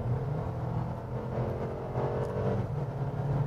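A 2021 Mercedes-Benz GLA accelerating up a highway on-ramp, heard from inside as a steady low engine drone and road rumble that builds slightly, with no voices.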